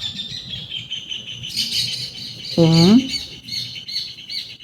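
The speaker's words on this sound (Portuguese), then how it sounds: "Os passarinhos estão animados." Small birds chirp and twitter indoors as a steady high background, with one louder squawk partway through, while someone speaks quietly over them.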